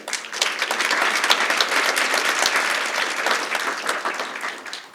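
A large audience at a children's literature session of a literary festival in Lahore claps steadily and loudly for the whole stretch, with no break.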